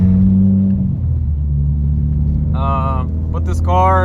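A Mitsubishi Evo X engine drones with a steady low rumble inside the cabin while driving, with brief higher sounds breaking in near the end.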